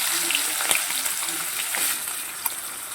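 Sliced onions frying in vegetable oil with two bay leaves in a pan, a soft continuous sizzle with a few brief clinks and stirring scrapes close by.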